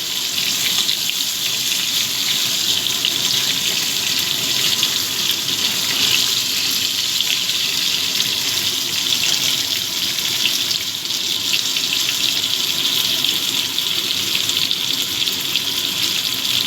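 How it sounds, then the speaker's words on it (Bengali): Potatoes frying in oil for a Bengali crab curry give a steady, loud, even sizzling hiss that holds without pause. "আলুগুলো ভালো করে ভেজে নেব"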